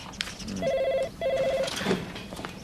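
A police station telephone gives two bursts of electronic trilling rings, separated by a short pause, clear and close against a quiet room.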